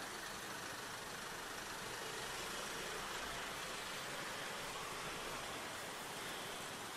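Steady roar of a Yamaha Mio Soul scooter riding on a road, dominated by broad wind rush and engine drone at an even level throughout, with no talking.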